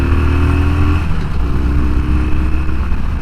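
A 2009 Harley-Davidson Sportster 1200 Custom with stock exhaust roars loudly and steadily as it accelerates, close by and continuous throughout.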